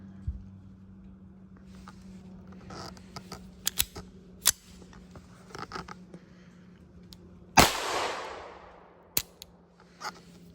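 A GSG Firefly pistol with a swapped spring fires 32-grain CCI Stinger rounds: one sharp, loud report with a ringing decay stands out among a few fainter snaps and mechanical clicks in a quiet setting.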